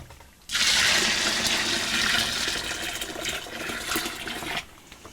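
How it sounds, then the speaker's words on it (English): Boiling water poured into a home brewing vessel for a pilsener kit, a loud, steady rushing splash of liquid that starts abruptly, runs for about four seconds and then stops, with no talk. "And then just pour the rest of the boiling water in there."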